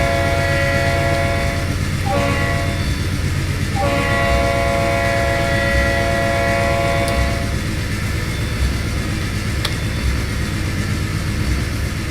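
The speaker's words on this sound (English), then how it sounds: "I'll just use the honking horn." A train horn in the Trainz TRS19 railway simulator, on the Niagara–Fort Erie route, sounds in long, loud blasts over steady rolling rail noise and clickety-clack, with no talking.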